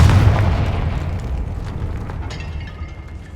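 A Confringo blasting spell in the Hogwarts Legacy video game goes off with a loud booming explosion at the start that rumbles and slowly fades over a few seconds.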